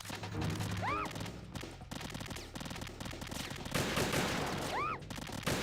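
Gunfire in the Metal Gear Solid 2 video game, dense rapid shots mixed with game effects and a couple of rising whistle-like tones, loud and continuous throughout.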